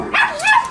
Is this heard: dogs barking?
yes